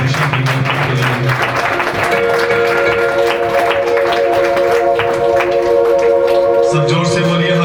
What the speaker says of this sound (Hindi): कलीसिया अपने हाथों को उठाकर एक बार फिर से जोर से ताली परमेश्वर की महिमा के लिए।